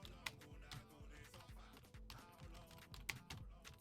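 Typing on a computer keyboard, a quiet run of quick, uneven key clicks close by with a few louder taps.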